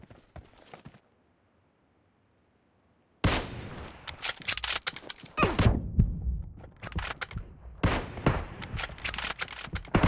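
Gunfire erupts in the PUBG Mobile video game after a short silence, with loud repeated shots and bursts in close succession.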